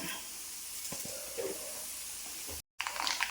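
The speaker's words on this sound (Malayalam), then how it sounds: "ഇതിലേക്ക് നമ്മൾക്ക് ഒരു 1/2 ടീസ്പൂൺ കടുക് ഇട്ട് കൊടുക്കാം." Half a teaspoon of mustard seeds in hot oil gives a faint, soft hiss, with a few small pops scattered through it, heard close in a quiet kitchen.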